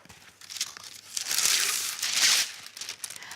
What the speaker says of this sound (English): Get a little bit of baking paper.